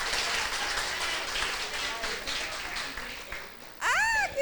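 Congregation clapping in a church during a worship service, a steady broadband wash of many hands that runs for several seconds before a voice cuts in near the end.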